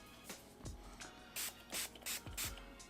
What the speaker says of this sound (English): I always go this way, and I get the breech face, just a nice little spray like that